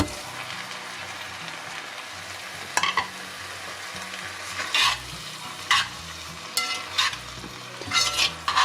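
Shredded jackfruit, wrung out and marinated, is stirred around a hot pan for a vegan Flemish carbonnade, giving a steady sizzle and fry broken by several sharp scraping stirs.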